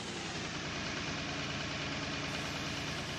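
A tractor engine idles steadily in Farming Simulator 19, a constant low, rumbling drone with a fine mechanical vibration, heard close with no breaks.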